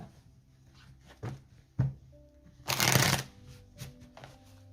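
A deck of tarot cards is shuffled and cut by hand: soft taps and riffles lead into a brief, dense burst of flicking cards, then a few light knocks, all close and quiet.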